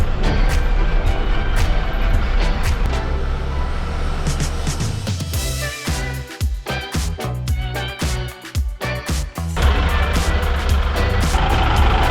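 A truck hauling a shipping container on a slippery slope churns its engine loudly, then repeated reversing beeps sound in a steady rhythm over the rumbling motor before the engine roar swells again.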